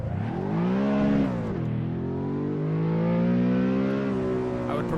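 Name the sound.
car engine and exhaust revving in Assetto Corsa video game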